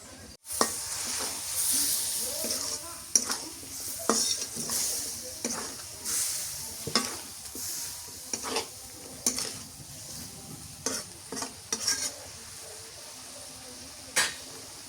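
Onion flowers fry in a pan during fish cooking, giving a continuous close sizzle punctuated by regular sharp scrapes and taps of a spatula stirring against the pan.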